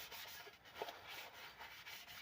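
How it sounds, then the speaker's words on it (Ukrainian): Steady soft rubbing and wiping, a cloth dragged back and forth over the metal case of a 4000W inverter to clear dust, in a continuous, close, quiet rhythm with no voices. "перед збіркою повністю протираю від пилі"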